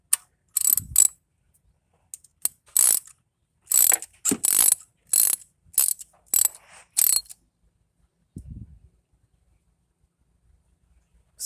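Ratchet wrench tightening spark plugs on a 2011 Toyota Tacoma, a series of sharp, close clicking bursts in irregular strokes with short silent gaps between them, then a softer clunk near the end.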